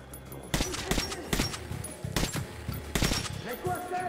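Video game gunfire in Metro: Last Light, with several loud bursts of rapid shots separated by short pauses, heard close over background game sounds.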